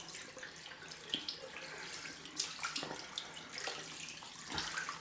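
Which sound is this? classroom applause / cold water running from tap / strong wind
cold water running from tap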